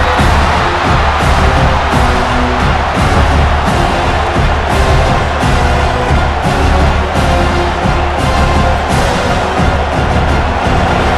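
A dense stadium crowd roars and cheers throughout a red-zone goal-line stand in the NCAA College Football 26 video game, loud and steady with bursts of whoops and noise swelling over the full stretch.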